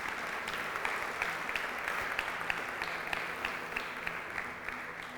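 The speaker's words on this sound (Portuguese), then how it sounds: "Você pode aplaudir o Senhor." A church congregation claps together, steady and sustained applause spreading through the room with a faint rhythmic pulse of hands, moderately distant and without speech.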